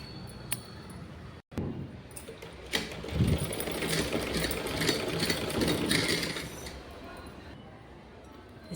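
A sewing machine stitches the sides of a small velvet dress for a Laddu Gopal doll, a close, buzzing motor drone with rapid needle clatter that builds after a brief stop and runs steadily, with a voice in the room.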